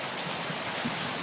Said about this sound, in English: we are absolutely getting dumped on with hail